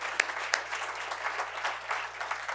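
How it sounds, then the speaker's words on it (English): Audience applause at a USDOT electric vehicle charging grant announcement, a steady wash of scattered clapping from a crowd with a few sharper claps standing out near the start. "We should clap for that one too, I think."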